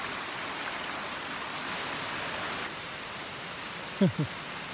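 Allen Creek flowing through the woods, a steady broadband rush of moving water heard close and continuous throughout, with a brief voiced sound near the end.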